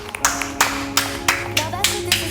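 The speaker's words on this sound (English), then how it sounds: "Can we just get a round of applause for Trisha Paytas?" Steady, evenly spaced claps ring out close and loud in a slow rhythmic round of applause, alone against a faint hum.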